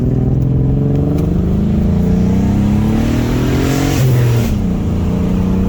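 Turbocharged Nissan Maxima driven after a CV axle repair, the engine loud and close as it revs and accelerates with rising then falling pitch and a brief gear change, no talk.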